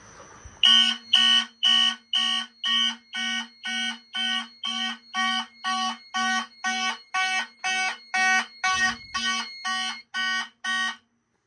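A Gamewell smoke detector blares in loud, evenly spaced electronic beeps during a smoke test, repeating about twenty times before stopping abruptly.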